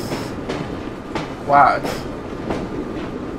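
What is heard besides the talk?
train moving in the video game Assassin's Creed Syndicate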